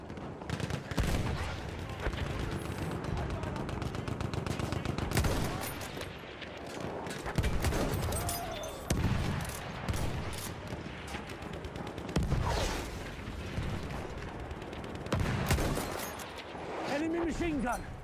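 Machine gun fire in the Battlefield 1 video game, loud, chattering bursts and scattered shots repeating over the whole stretch amid battle noise, with voices shouting in between.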